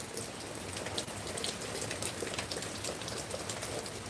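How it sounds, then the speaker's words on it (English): Hurricane Helene rain pours down on a homestead yard, a dense, continuous hiss of drops hitting surfaces at steady moderate loudness with no voices. "the rain's hitting me in the back."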